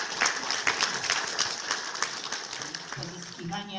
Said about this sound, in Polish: Brawa od nas wszystkich i serdecznie podziękujemy.